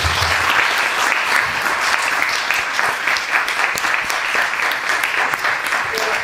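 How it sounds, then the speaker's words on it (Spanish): An audience at a book presentation gives sustained, loud applause, with a dense wash of many hands clapping at an even level throughout and faint crowd murmur underneath. "yo creo que se merece un fortísimo aplauso"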